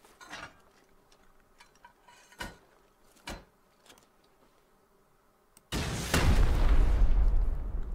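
A rocket launcher in the survival game Rust during a raid on an NPC base: a few faint clicks and taps, then a loud, close rocket blast that rolls into a sustained, deep roar.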